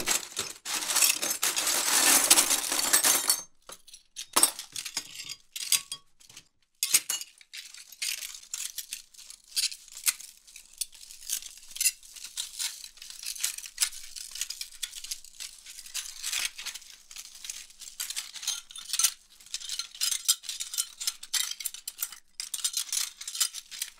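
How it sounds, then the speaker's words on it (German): Glass shards are rubbed and shaken against each other, first in a dense loud rattling burst, then as scattered clinks and scrapes close up, continuing in uneven bursts. "Glasscherben aneinander zu reiben, weil ja auch von Glassplittern die Rede ist in dieser Anweisung"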